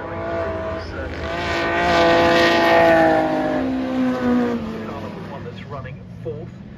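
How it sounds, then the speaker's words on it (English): A Lotus Elan race car passing on the Brands Hatch GP circuit during a Masters Gentlemen Drivers race, its engine note rising and fading as it goes by at moderate distance, with a commentator talking over it. "Now there's that Elan now going through the circuit."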